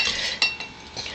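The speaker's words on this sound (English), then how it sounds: "the pastry cutter or blender, whichever you call it, they work pretty well" A metal pastry cutter works cold butter into flour in a bowl, giving a few quick, close clinks and scrapes at an uneven rhythm.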